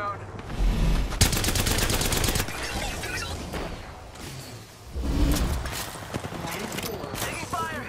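Gunfire bursts in the Apex Legends battle royale game, dense rapid shots in the opening seconds followed by scattered further volleys, loud and close, with in-game voice lines and other noise mixed in.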